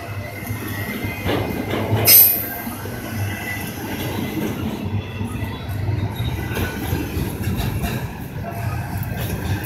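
A Norfolk Southern freight train, NS 213, rolls past in Greenville with a steady low rumble and faint rail clatter, holding an even level throughout with a brief brighter screech near the start.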